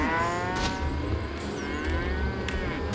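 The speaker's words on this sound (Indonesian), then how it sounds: "Kita lewat sapi-sapi seperti biasa." Cattle mooing close by as a car drives past them on a road, the calls rising over a steady engine rumble and road noise.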